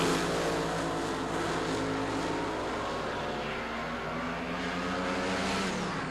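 Drag racing cars from the 1976 NHRA Springnationals launch from the starting line, a loud, sustained engine roar that fills the whole stretch with steady, dense harmonic howling and little change in level.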